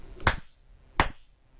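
Two single hand claps spaced under a second apart in an untreated home garage music studio, each sharp crack followed by a short ringing echo off bare walls.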